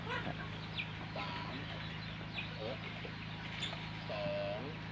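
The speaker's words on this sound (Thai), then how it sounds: "บริเวณไก่บ้านนะครับผม" Free-range native chickens cluck and chirp in a farm pen, a scatter of short calls close and far, while someone talks over them.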